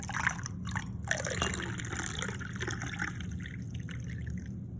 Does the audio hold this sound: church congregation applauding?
no